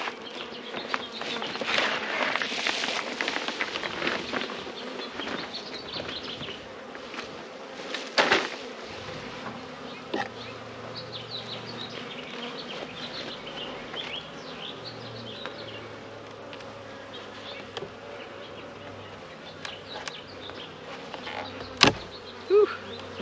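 Honey bees hum and buzz steadily around an opened hive during an early-season check, a soft continuous drone with a few louder close passes and some light handling knocks.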